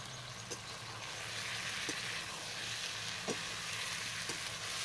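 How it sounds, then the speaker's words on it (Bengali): Spices (ground coriander, cumin, black pepper) and potatoes frying for a tuna fish curry, a steady, close sizzle with a few soft stirring clicks and no talk. "দিয়ে একটু কষিয়ে নেব।"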